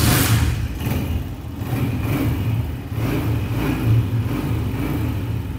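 A motorcycle engine runs steadily at idle after being started, a continuous low rumble with mild fluctuations, loud and close, with no talking.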